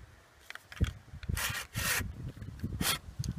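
Hand saw strokes through the wood of an 8-metre tree being felled, a few rasping bursts with quieter gaps between them, fairly close and uneven in rhythm.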